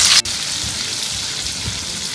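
Chili paste sautés in hot oil, giving a continuous near sizzle and hiss after a brief louder burst at the start, with faint stirring underneath and no talking.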